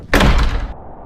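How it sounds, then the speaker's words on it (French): A door swings open in one short, loud burst of knocking and thudding, which fades quickly into a quiet room. "Ouvre la porte."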